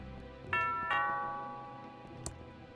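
A two-tone doorbell chime in the video game Thimbleweed Park, ringing ding-dong with lingering tonal decay, followed by a soft click and a later sharp tap, with faint background noise.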